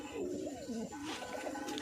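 Giribaz and Madras pigeons coo close by in soft, rolling, repeated calls, fairly quiet against low background noise.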